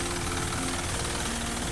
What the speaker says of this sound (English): this is a 4HL1 intercooler turbo engine